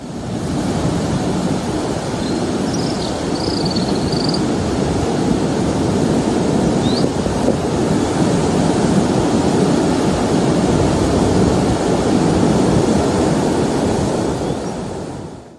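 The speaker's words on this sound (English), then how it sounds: "She's showing some more waves, building swell, water coming all up through the area." Ocean waves and a building swell at the Mexican pipe surf break make a constant, loud rushing roar of breaking surf, with no talk over it.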